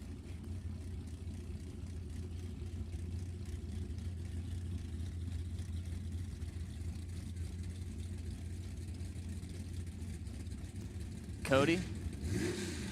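Drag racing cars, a 64 Falcon and a 70 Camaro, rumble low at idle behind an announcer's voice, and a short sharp rev bursts out near the end.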